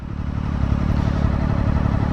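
A small Honda CBR300R sport motorcycle engine runs hard and close by, with a steady, dense drone that holds at high revs throughout without pause.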